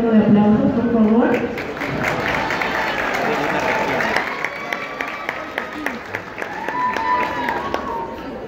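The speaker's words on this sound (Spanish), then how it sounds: "Vamos a recibir al profe Ronald con un fuerte voto de aplausos, por favor." Applause welcoming a dance teacher, many hands clapping and some cheering that rises after a voice and continues at an even level, with talk and tonal sounds overlapping through the middle.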